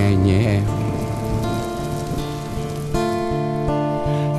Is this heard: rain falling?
yes